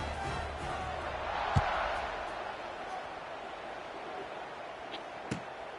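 A stadium crowd in an American football video game roars steadily ahead of a kickoff, swelling briefly with a couple of sharp thuds rising above the constant broadband cheering.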